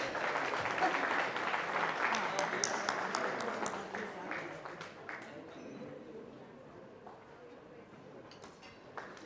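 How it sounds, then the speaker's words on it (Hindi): Audience applause at an award ceremony, a steady broad wash of clapping that is loudest at the start and thins gradually toward the end, with a few sharper individual claps standing out. "तालियां बजती रहनी चाहिए"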